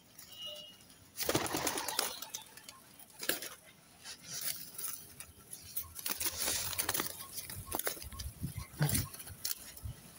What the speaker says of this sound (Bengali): আমি অনেক দিন পর পায়রা ওড়াচ্ছি